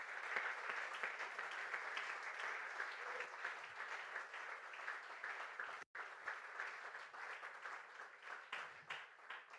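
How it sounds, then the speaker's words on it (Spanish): Church congregation applauding steadily after a closing prayer, a dense even wash of clapping that fills the whole stretch with one brief dropout near the middle. "Dale un aplauso al Rey"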